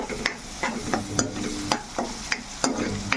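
A spoon stirs chopped green chillies through onion paste frying in a pan, with soft rhythmic scrapes over a low sizzle, close up and with no talking.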